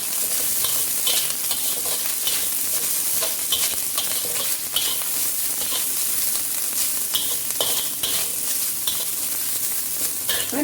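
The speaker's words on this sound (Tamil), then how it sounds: "தேங்காய் பூவும் கொஞ்சம் நல்லா வதக்கிக்கணும்" Grated coconut sautés with onion, garlic and chili in a hot pan, a loud, steady close sizzle with frequent scraping stirs throughout and no talking.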